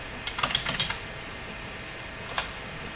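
Keys on a computer keyboard clatter in a quick burst of taps, followed by a pause and one more isolated keystroke, close and moderately loud.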